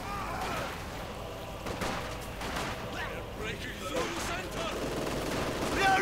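Sustained machine gun fire from an MG-42 in a World War II video game, dense overlapping bursts of gunfire and explosions throughout, loud and continuous with battle noise and a voice mixed underneath.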